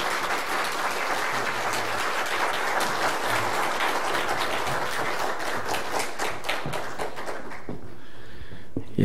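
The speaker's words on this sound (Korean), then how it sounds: "우리 큰 박수로 한번 격려해 주십시오." A church congregation applauding at an installation thanksgiving service, steady crisp clapping from many hands that fades into scattered claps and quiet near the end.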